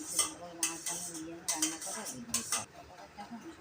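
Egg chowmein being stirred with sauce in a pan, with repeated scraping and clinking of a utensil against the metal in an uneven rhythm, close by and fairly quiet, no talk over it.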